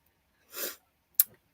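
A single sneeze bursts out, followed moments later by a short, sharp sniff or snort. Silence surrounds both sounds.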